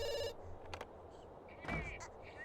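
A telephone rings in a family life-simulation game, a short trill at the start followed by further electronic chimes and game sound effects.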